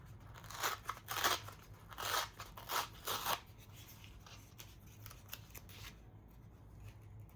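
Paper being torn into background strips for a scrapbook-style memory planner page, several short crisp rips close by in quick succession, followed by quiet handling.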